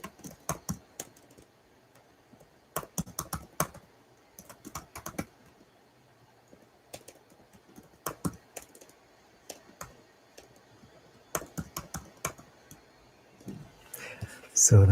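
Bursts of typing on a computer keyboard, quick clattering keystrokes in short runs separated by pauses, close and clear, with a brief voice or noise at the very end.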